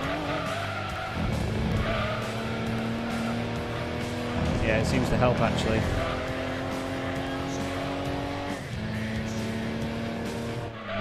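Race car tyres squeal and skid through a corner in Gran Turismo 2, a sustained whine of sliding rubber over a droning engine, with someone talking over it.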